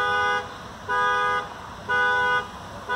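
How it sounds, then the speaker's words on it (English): Car alarm from a Jeep on fire, sounding as a loud, steady electronic tone in evenly spaced pulses, three full blasts about a second apart with a fourth starting, heard from a moderate distance. "I guess that's the alarm of the Jeep that's on fire."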